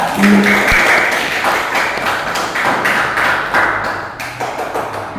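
Fourth-grade students in an elementary classroom in Gresik clap for their classmates, a dense, steady patter of many hands that starts at once and runs without a break, fairly close and loud.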